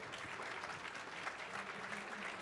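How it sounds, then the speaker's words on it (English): An audience at the CES 2023 CTA Foundation pitch competition gives a steady round of applause for the judges, soft and distant and heard alone. "please give them a round of applause"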